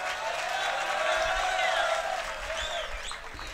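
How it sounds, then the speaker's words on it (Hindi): Audience at a Hindi kavi sammelan poetry recital in Ratangarh clapping, a moderate, fairly distant patter of applause with voices and whistle-like sounds mixed in. "अगर पसंद आया तो एक बार पूरा सदन तालियों से।"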